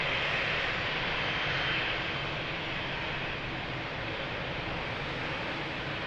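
An airliner at Lisbon Airport takes off runway 02 with a loud, broad jet-engine roar that holds steady and slowly eases slightly over several seconds.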